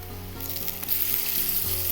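Boneless chicken pieces with ginger-garlic paste frying in a pan for butter chicken, a bright hissing sizzle that swells and stays loud and steady, close up, with a low hum beneath and no voices.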